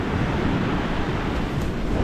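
Waves wash against the Black Sea shore near Adler and Sirius in January, with steady gusting wind over the mic; the roar stays broad and continuous with no voices.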